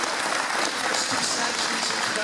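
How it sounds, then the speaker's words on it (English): Steady, full applause from the audience at a provincial election candidates' debate in Renfrew County, a dense, even wash of many hands clapping for the candidates with no pauses. "let's have a round of applause for the candidates"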